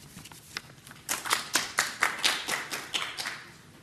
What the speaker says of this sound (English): And I'd like to give everybody to give her a round of applause.